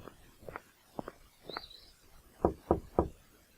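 Knocking on a door in the video game A Golden Wake: a modest wooden front door is rapped in loose pairs of soft taps, then three firmer, louder knocks close together.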